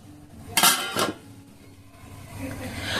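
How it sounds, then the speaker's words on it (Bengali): A metal lid is set over a pan of vegetable pizza cooking on a stovetop, giving two sharp clattering clinks close together, then a low quiet hum of the kitchen. "এটা বসিয়ে দেওয়ার পরে এর উপরে দিয়ে দেবো আমি একটা ঢাকা"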